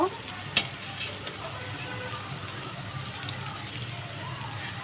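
Chopped tomatoes go into a frying pan of potatoes being cooked Chinese style, bringing a steady close sizzle with one brief clatter early on and a faint voice in the background.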